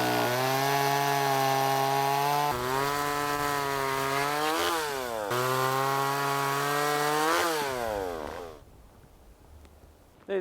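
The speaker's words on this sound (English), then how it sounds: "Gonna chop up some firewood." A chainsaw cuts up a dead log for firewood outdoors in snowy high country, loud and close, its engine pitch dipping and rising as it bites through wood before stopping near the end.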